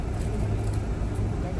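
A tour bus in Mecca rumbles low as it slowly begins pulling away from a hotel, its engine drone steady beneath nearby voices talking.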